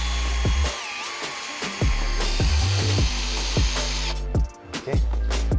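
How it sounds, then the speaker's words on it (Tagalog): A spinning drill brush mounted on a power drill scrubs a wall to remove white stains, a continuous whirring grind with rhythmic scraping pulses roughly every half second, close and loud, with no speech. "use this drill brush, attach it to a drill, and then you can brush the whole wall easily"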